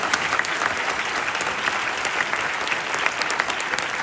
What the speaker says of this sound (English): So if we can give them a giant round of applause for all of their support as well.